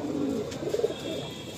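A black Madrasi pigeon gives a few soft, low coos, close by and fairly quiet against a faint background hum.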